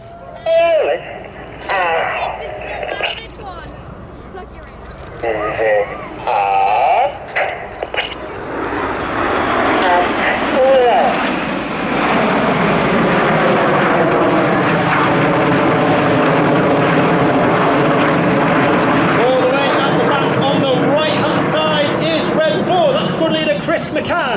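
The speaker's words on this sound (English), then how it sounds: "And coming in from the right, this is Typhoon." A Royal Air Force Typhoon jet passes at the Midlands Air Festival air display, its roar swelling from a distance to a loud sustained rush that holds and shifts in pitch, with an announcer talking over the start.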